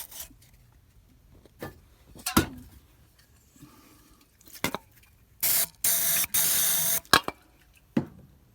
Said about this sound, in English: And then I put that deep creep on it